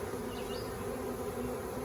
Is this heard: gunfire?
no